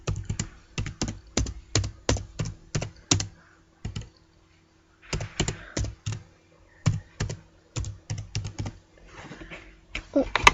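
Keys clatter in quick bursts of taps on a laptop keyboard, close and crisp, with short pauses between runs and faint background noise.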